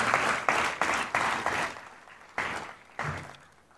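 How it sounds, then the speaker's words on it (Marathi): Audience applause at the closing ceremony of a world Marathi conference in Satara, heard as several bursts of clapping that rise and fade, fairly close and loud, with no talking. "जागतिक मराठी अकॅदमीसाठी आपण सर्वांनी जोरदार टाळ्या वाजवून त्यांना मनापासून आपण धन्यवाद दिले पाहिजे"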